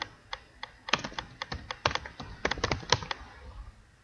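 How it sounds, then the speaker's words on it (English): Keys clatter on a computer keyboard as a command is typed, a quick irregular run of crisp close taps over about four seconds, with no talking. "Open that up and type System Info."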